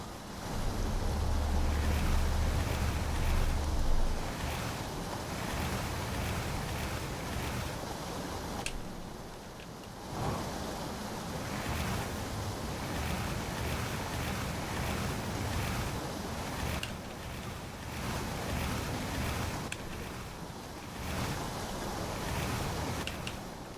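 Constant rushing white water surges around a raft beached midstream in the video game Outer Wilds, a steady roar of churning rapids and wind with no voices over it.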